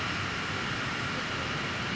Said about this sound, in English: when the TS-21 starter turbine begins its distinctive whine